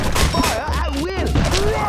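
Musketeer towers in the video game Kingdom Rush firing volleys, crackling gunshots and booms layered over game music and voiced character lines.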